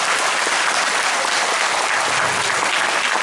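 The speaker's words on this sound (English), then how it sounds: "let's give a big round of applause to our three panelists" An audience at a seminar on Ladakh's opportunities and challenges applauds its three panelists, a loud, steady wash of many hands clapping that holds evenly for a few seconds.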